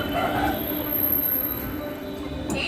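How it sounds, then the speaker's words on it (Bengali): A train rolls slowly along the rails of the fourth line between Tikiapara and Howrah, India, with a steady low rumble, faint wheel squeal, and a few clanks near the end. "ধীরে ধীরে ট্রেনটা যাচ্ছে যার জন্য একটু সময় লাগছে"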